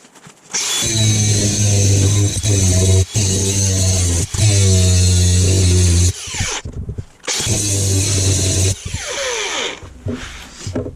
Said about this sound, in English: time to get the grinder out, break this off, try again